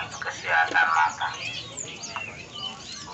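White-rumped shama sings at a busy bird market, with bright chirps and whistled phrases rising over crowd murmur and nearby voices.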